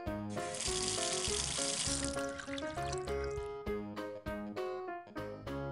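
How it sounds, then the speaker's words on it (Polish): Water runs from a tap in a strong steady stream for about two seconds, then fades, leaving light background music playing alone. "Kran."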